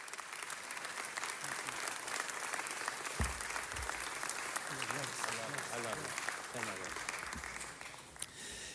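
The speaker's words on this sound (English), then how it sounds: "Let's give him a round of applause" Audience applause at an Italian American Heritage Month event honoring a community member: dense, sustained clapping fills the whole stretch, with voices mixed in, before fading toward the end.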